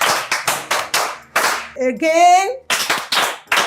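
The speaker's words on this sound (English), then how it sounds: "A round of applause for everybody." A group claps in a steady, rhythmic beat during a Nigerian film scene, with sharp, evenly spaced hand claps, a brief pause while one voice calls out, then the clapping starts again.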